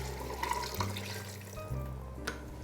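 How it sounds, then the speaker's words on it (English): Beef broth, four cups, poured into an Instant Pot, a close steady splashing gurgle of liquid lasting a few seconds, with no talking. "I am going to add the beef broth, 4 cups."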